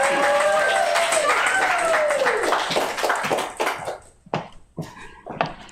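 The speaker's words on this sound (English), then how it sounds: "Please, round of applause for Angelina Sáenz." An audience at a book launch applauds poet Angelina Sáenz, a dense, steady wash of many hands clapping that thins into a few scattered claps at the end, with a voice briefly heard over it.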